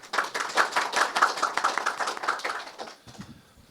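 A seminar audience at a Korean technology-innovation research presentation applauds a professor being introduced, a moderate crowd of hands clapping steadily and fading out near the end.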